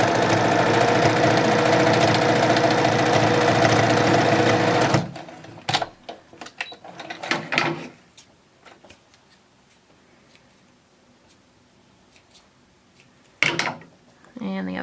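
A sewing machine runs continuously for about five seconds, loud and close, stitching the edges of a fabric headband, then stops. Scattered handling clicks and rustles follow, along with brief talk.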